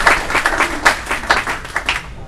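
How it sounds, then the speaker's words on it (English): An audience at a North Miami Hall of Fame induction ceremony gives a round of applause, a close, steady burst of many hands clapping for a couple of seconds. "So let's give them a round of applause"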